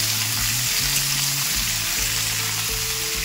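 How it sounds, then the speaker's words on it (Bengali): Potatoes fry in oil in a pan alongside jackfruit pieces, cooked with goat fat, making a steady loud sizzle close up with faint low tones underneath throughout. "এবার আলুগুলোও দিয়ে দেবো। এটাকে আমি ভালো করে ভেজে নেব।"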